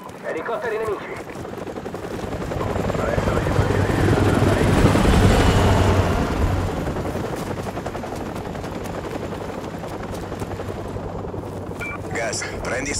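Enemy helicopters in Call of Duty Modern Warfare Remastered, a loud continuous rotor roar mixed with gunfire and battle noise, swelling to a peak midway, with a low steady hum underneath.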